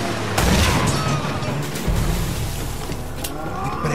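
Gunfire in the video game Uncharted: Drake's Fortune: several sharp bursts and booms punctuate a noisy action scene, with loud impacts near the start and middle.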